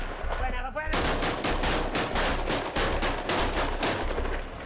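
Front-line gunfire in Mosul, Iraq, with rapid automatic bursts and overlapping shots cracking repeatedly and loud, a dense volley after a brief quieter start.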